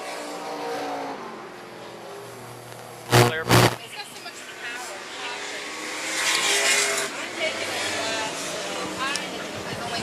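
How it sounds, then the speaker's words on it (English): Race trucks roaring around the oval at Charlotte County Speedway, a steady engine drone with two loud bursts as trucks pass close, while an announcer calls the race over the noise. "TJ Duke almost a half a lap ahead of the second place truck."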